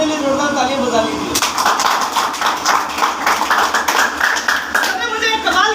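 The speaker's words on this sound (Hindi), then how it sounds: "इसलिए अपने लिए जोरदार तालियां बजा लीजिए।" A Hindi-speaking seminar audience at an RCM business talk bursts into loud, dense clapping after a brief spoken lead-in, sustaining vigorous applause for several seconds before voices return at the end.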